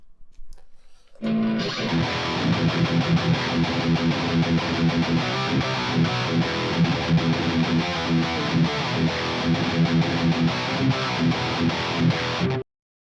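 Heavily distorted electric guitar played through an STL Tonality Josh Middleton amp plugin starts abruptly and chugs in tight, driving low riffs for about eleven seconds before cutting off cleanly.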